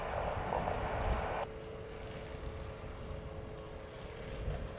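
Aircraft engines at Dublin Airport, a faint distant whine and drone from planes at the holding point, steady with a brighter rush that cuts off early, and no voices.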